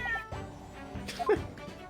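Waggy the cat in The Great Ace Attorney lets out a few short, close meows and mews amid light shuffling, brief cries breaking through a quiet game background.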